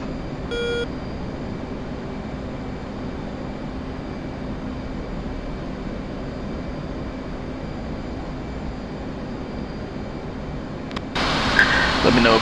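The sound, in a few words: F/A-18 jet engines at raised throttle, from video game DCS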